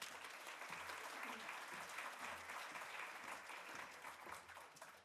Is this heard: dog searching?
no